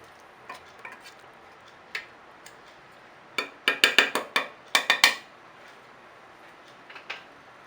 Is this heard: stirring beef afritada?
yes